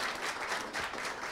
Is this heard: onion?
no